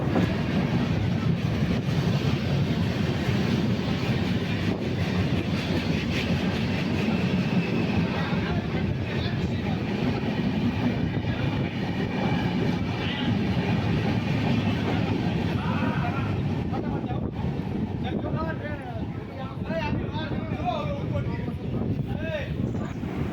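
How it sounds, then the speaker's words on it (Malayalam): A train rumbles steadily for a long stretch as it crosses on the line near Nagercoil, a dense continuous roar with faint rhythmic rail clatter, close and loud, with voices faintly beneath. "അങ്ങനെ ആ ട്രെയിനൊക്കെ ക്രോസ് ചെയ്ത് പോയി"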